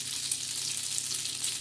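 Egg bread frying on a hot griddle gives a steady, even sizzle with fine crackling throughout, close and continuous with no talk.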